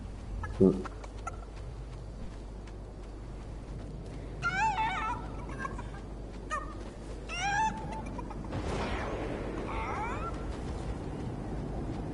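A chicken clucks in a video game, with short bursts of rapid clucking spread through the middle over constant game background noise, following a sharp thump near the start.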